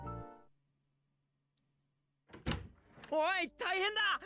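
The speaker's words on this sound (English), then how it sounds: "I heard the doors of the clubroom fly open and Ito ran inside." Clubroom doors fly open in the visual novel game Chaos;Child with a short burst of clatter, then a game voice begins talking.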